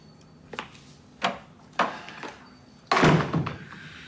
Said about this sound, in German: Die Tür nicht vergessen.